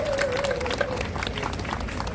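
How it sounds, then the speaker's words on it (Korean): Rally crowd applauding in a steady, dense wash of clapping, loud and continuous throughout, with a faint voice or tone drifting over it. "함께 박수, 큰 박수, 축하의 박수를 보내주시기 바랍니다"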